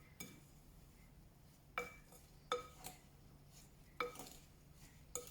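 Flapjack oats, raisins, butter and golden syrup are stirred in a bowl, with a few sharp utensil clinks against the bowl spaced irregularly over quiet background.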